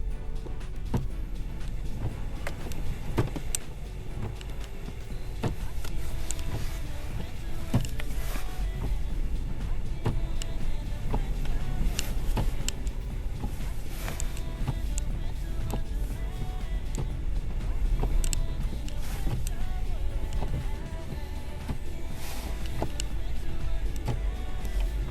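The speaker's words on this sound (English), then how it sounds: "I'll leave the truck running, let the snow melt off from under the hood." A truck engine idling outdoors in snow at a cabin orchard, a steady low rumble running throughout with scattered creaks and mechanical clicks on top, no talking.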